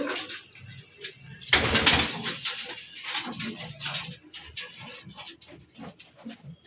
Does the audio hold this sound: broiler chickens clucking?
no